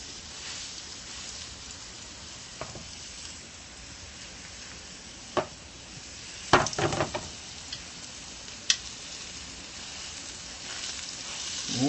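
Skirt steak sizzles steadily in a hot pan just after being flipped, a constant frying hiss with a few sharp clatters and bumps from handling partway through; no one speaks.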